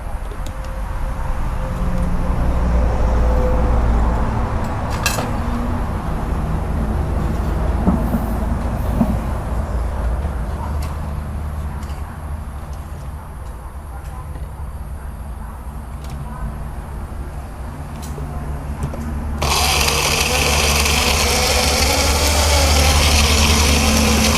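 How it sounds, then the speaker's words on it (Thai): An electric blender whirs steadily while blending a Thai five-flavour seafood dipping sauce (spicy, sour, sweet, salty), a loud continuous motor roar that surges louder near the end. "ขั้นตอนต่อไปปิดฝาเตรียมปั่นได้เลยครับ"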